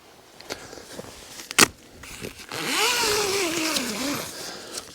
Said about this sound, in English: get the zipper open, show you inside